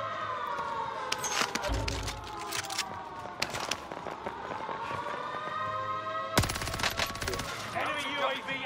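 Rapid video-game gunfire crackles in dense bursts throughout a military shooter battle, joined by whistling tones and a sharp loud burst near the end, with distant chatter mixed beneath.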